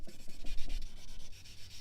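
Continuous rhythmic rubbing of sandpaper over a car's painted fuel door, stripping thin black paint that sits over red, heard close up with steady back-and-forth strokes.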